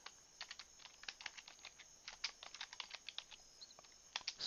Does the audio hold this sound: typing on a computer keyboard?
yes